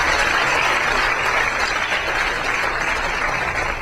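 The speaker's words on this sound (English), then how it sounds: "we can give her a round of applause." A room of people at a school board of education meeting applauds a student honoree, a steady, even wash of clapping that holds close and loud for the whole stretch.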